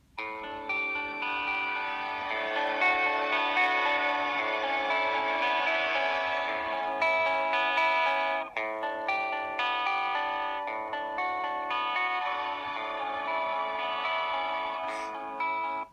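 Digitech iStomp guitar pedal running its Angel Choir effect, a shimmering, choir-like guitar wash with dense sustained harmonics and echo trails, played steadily and loud for about sixteen seconds with no talking.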